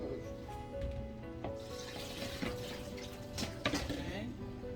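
Water is poured into a hot pan of shrimp and broccoli scampi sauce, a faint splashing trickle with soft sizzling and clinks from a home kitchen while someone talks over it.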